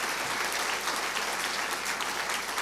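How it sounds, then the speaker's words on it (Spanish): A church congregation applauds with steady, dense clapping that holds at an even level throughout, filling the room with no break and little talk. "Amén, aplauda al Señor."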